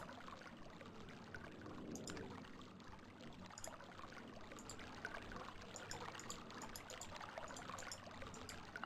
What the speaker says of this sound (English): This is a sound effect, the water noise?